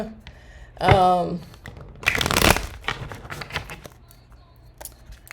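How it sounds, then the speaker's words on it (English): Tarot cards that are stiff and hard to shuffle are riffled. The cards make a couple of quick papery rushes and crackles close by, mixed with some vocal sounds. "Oh my gosh, these cards are kind of hard to shuffle."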